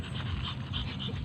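A dog pants steadily and rapidly up close, a continuous rhythmic huffing with no one speaking.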